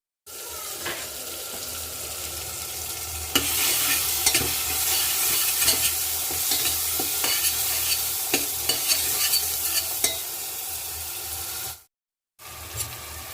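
Potato and eggplant cooking in a pressure cooker are stirred steadily, with a continuous sizzle under repeated scraping clicks of the spoon, close and fairly loud, then a brief drop to silence near the end.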